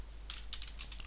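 Typing a bundle name on a computer keyboard, a quick run of soft key clicks heard faintly over a steady background hiss.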